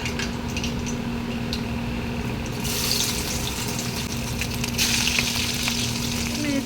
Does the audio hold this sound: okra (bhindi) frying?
yes